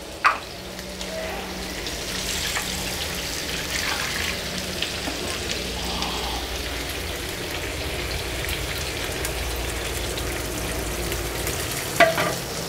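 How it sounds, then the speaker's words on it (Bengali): Water poured onto spices frying in a pan sets off a steady, rain-like sizzle that lasts throughout, with occasional stirring clatters near the start and end. It is close and even in level. "আমি একটু জল দিচ্ছি।"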